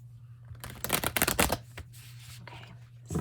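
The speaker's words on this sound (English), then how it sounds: "Getting better at shuffling them too." Tarot cards riffle rapidly in a crisp burst of flutters and slaps close by, followed by a few softer taps as the deck settles.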